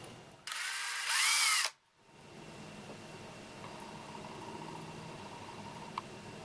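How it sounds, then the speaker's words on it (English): A small power drill boring a hole through the center of a tiny workpiece for an acrobat flea figure, a single loud whirring burst of about a second that rises in pitch, then cuts off into a quiet room. "you know it needs a hole drilled into it"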